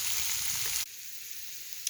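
Burdock roots stir-fried and glazed in cooking wine, a bright hissing sizzle in the pan that drops abruptly to a softer, steady crackle as the liquid cooks off, with a faint clink near the end.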